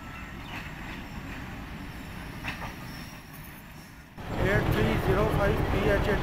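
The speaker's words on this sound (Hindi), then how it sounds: "पूरे 10:15 पे अप्रोच बना रही है 18 डाउन मंडी भावलदीन रेलवे स्टेशन पर" The 18 Down shuttle train, led by a Rawalpindi-based locomotive, rumbles into Mandi Bahauddin railway station, its wheel and track noise swelling sharply partway through and continuing loud and close.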